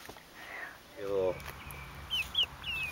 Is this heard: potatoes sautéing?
no